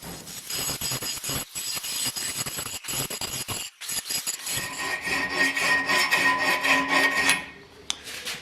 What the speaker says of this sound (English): which I'm busy smoothing it out with a file